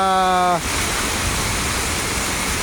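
Very heavy rain pours down at a Guadalupe overpass during bad weather. After a brief tonal sound, a dense, loud, unbroken hiss of downpour fills the air.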